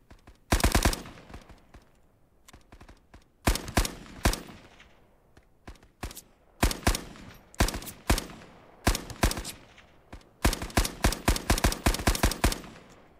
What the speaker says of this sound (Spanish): Pero hay que escuchar también tiros.